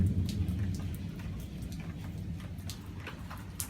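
Light rain patters steadily on a garden patio of potted plants and vegetables during a summer storm, a soft continuous wash with scattered drops and only a faint hint of distant thunder.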